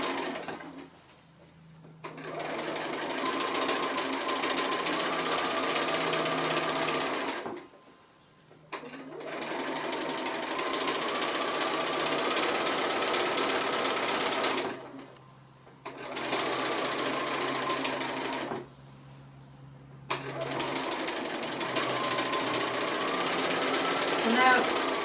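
A sewing machine stitches appliqué around the edge of a fabric needle book, running in several steady bursts with short pauses between them, close and clear.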